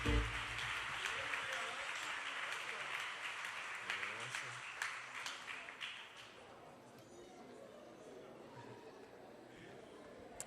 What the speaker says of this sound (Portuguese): Vamos dar uma salva de palmas a Jesus?